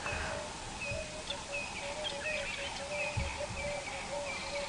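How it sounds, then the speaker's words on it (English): Cape turtle doves calling in the African bush on a cold winter sunrise safari drive: repeated rhythmic cooing phrases at moderate distance over a steady, faint outdoor hush. "Currently there's some Cape turtle doves,"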